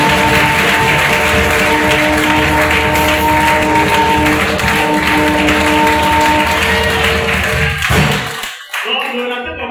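A church congregation claps and cheers loudly through most of the stretch over a sustained tonal music bed. Everything cuts off abruptly near the end, leaving a few brief muffled sounds.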